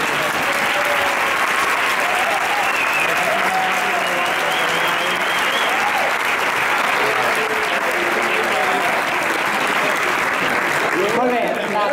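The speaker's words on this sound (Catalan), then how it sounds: "és un aplaudiment pel Josep, que va ser un dels promotors perquè això fos possible" Sustained applause rings out at an award dinner for a race event, loud and continuous for over ten seconds while voices talk underneath and a few cheers rise through the clapping.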